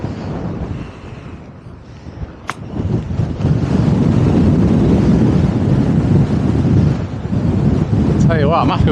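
Wind gusts across a links golf course during an amateur competition, a loud buffeting roar against the microphone that builds and stays strong, with a brief voice near the end.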